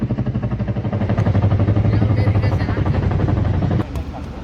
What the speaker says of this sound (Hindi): वो देखिए इस पे डबल पंखे हैं, चिनूक हेलीकॉप्टर।